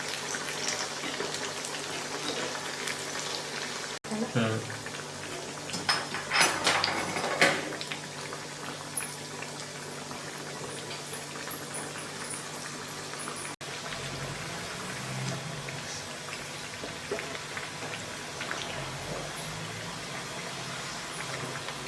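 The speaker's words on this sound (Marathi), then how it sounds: "थोडीशी कमी कमी गॅसवरती क्रिस्पी होईपर्यंत तळून घ्यायचे" Sago vadas deep-fry in oil over a low flame until crisp, a steady bubbling hiss throughout, with a few clinks from a utensil near the start and some faint knocks later.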